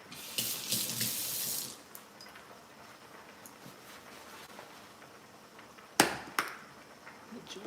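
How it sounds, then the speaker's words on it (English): Cooked noodles drained in a kitchen sink: a loud hiss of pouring water for under two seconds, then quiet, followed by a couple of sharp knocks. "I'm gonna go ahead and drain my noodles while we let this simmer for a little bit."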